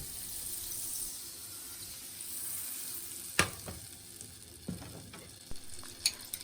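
Eggs cooking in a non-stick pan and being stirred gently with a rubber spatula, a soft, steady sizzle broken by a few sharper scraping taps toward the end.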